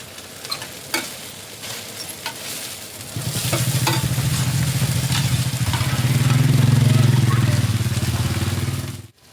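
Pad Thai noodles stir-fried in a pan: scattered spatula clanks at first, then a loud, sustained roaring sizzle with continuous scraping that swells toward the end, with a brief voice in the background.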